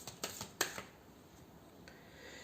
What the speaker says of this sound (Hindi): तो चलिए अब मैं थोड़े से कार्ड्स निकाल लेती हूँ